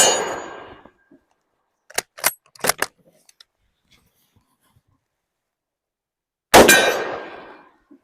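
A Yugoslavian M24/47 Mauser rifle fires at a gong: a loud shot with a metallic ring that slowly dies away, a fading ring at the start, and a few sharp clicks in the quiet between.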